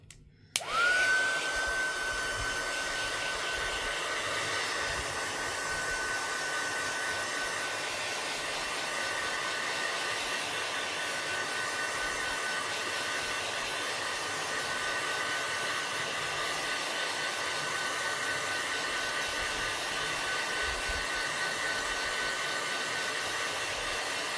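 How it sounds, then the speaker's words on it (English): A heat tool blows hot air to dry stamped ink on a card, starting with a click and then running as a steady, close whir with a faint high tone for the whole stretch, no talking. "I'm going to hit it with the heat tool just so we know the ink is dry"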